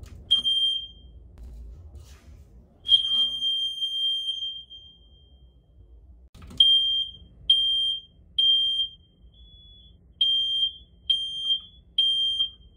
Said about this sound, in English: The way I'm gonna record the sound is by setting off the fire alarm right there.